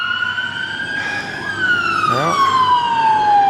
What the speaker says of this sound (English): oh, 2 ambulances, and I just heard the helicopter go over